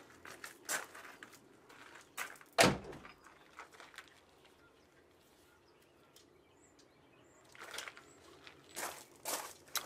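The door of a BMW E36 320i convertible is reopened and tugged, giving a sharp clunk of the latch among scattered faint rustles and footstep-like knocks, with birds faint in the background.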